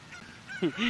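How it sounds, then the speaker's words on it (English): A chicken in The Legend of Zelda: Ocarina of Time (randomizer race) squawks and clucks near a waterfall, with two or three harsh honking cries bunched at the end over a faint game background. "The chicken just decided to fly up the waterfall."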